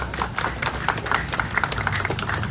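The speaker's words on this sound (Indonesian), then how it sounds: "Tepuk tangannya jangan setengah-setengah dong." Audience clapping at a live event with about 3,000 people, an Era Jaya Active Lifestyle gathering: steady, dense handclaps with distinct sharp strikes throughout, sustained at moderate volume with no talk over it.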